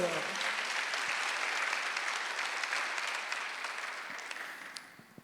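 Congregation applauding during a Sunday church service, a broad sustained wash of clapping from a large crowd that gradually tapers off, with a voice faintly present.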